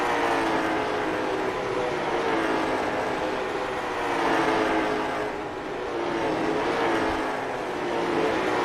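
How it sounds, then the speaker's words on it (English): Pavement late model race car, the 74, running on a short oval during a warm-up session, its engine a steady loud drone that swells and fades as it circles the track, heard alone. "Peter Brees finally putting the 74 car on the track."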